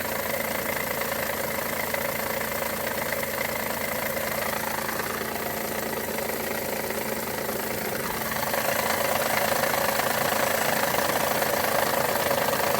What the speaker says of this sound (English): that is the level of noise that you're talking about when you discuss the chatter of the up gearboxes